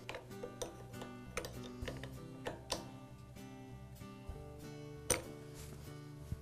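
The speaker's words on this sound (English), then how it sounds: "now I can tighten up the retaining nut" Metal clinks and clicks from tightening a retaining nut on the throttle shaft of a Powermate cultivator, a quiet, irregular series of sharp taps and ringing tool contacts with no talk.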